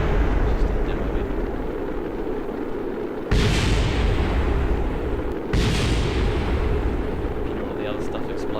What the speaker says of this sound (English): Hear all the other stuff exploding around me.